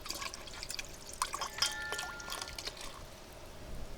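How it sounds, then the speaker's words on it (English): Pacifico beer is poured into a brisket marinade of cider, beef broth, Worcestershire, hot sauce and oil, a soft liquid gurgle and splash with a few glassy clinks, quiet and close. "I'm going to add in some Pacifico beer"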